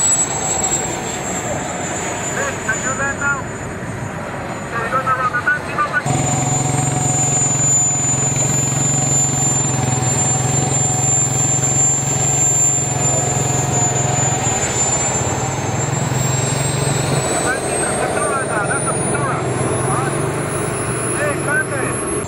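Jet engines run at an air show in Kentucky, a loud sustained whine and rumble with a high tone slowly rising in pitch, a deeper engine drone entering partway through, under a public-address voice.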